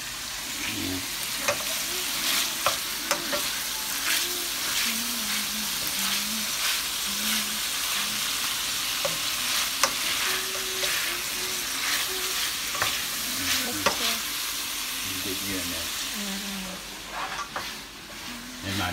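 Sausage for a seafood gumbo sizzles and fries steadily in a pot while being stirred, with scraping and clinking of the spoon through the whole stretch, close and fairly loud.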